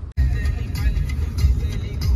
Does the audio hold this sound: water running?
no